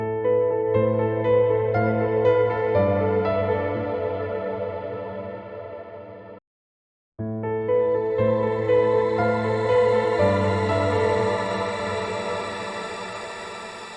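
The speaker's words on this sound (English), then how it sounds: "once you start adding feedback, it gets more and more chaotic" Valhalla Shimmer reverb plugin with its feedback turned up throws off chaotic, sustained layered tones. A shimmering high wash climbs after a brief silent gap midway and keeps building to the end.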